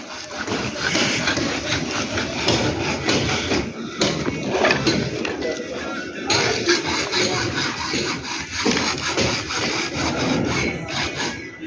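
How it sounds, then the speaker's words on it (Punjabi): A hand saw cuts through a plastic sewer pipe at an outdoor sewerage connection dig, with steady, rhythmic back-and-forth rasping strokes heard up close and continuing throughout. "ਪੈਪ ਨਾਪ ਕੇ ਕੱਟੀ ਜਾਂਦਾ"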